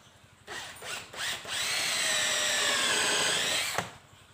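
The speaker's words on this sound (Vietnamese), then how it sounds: "Các bạn dùng một cái mũi khoan, cái này bạn sử dụng mũi 10 ly ha." An electric drill fitted with a 10 mm bit bores a hole in a wooden bed frame: two short starting bursts, then a steady, loud whine lasting about two seconds before it stops abruptly.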